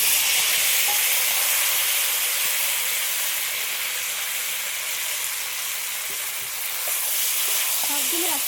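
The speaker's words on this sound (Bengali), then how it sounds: "একটু নেড়ে নেবো এবার বেটে রাখা মশলাটাও দিয়ে দিচ্ছি" Ground spice paste with a bay leaf fries in an oil-filled pan while being stirred. A steady, loud sizzle carries throughout, with faint clinks of the stirring utensil near the end.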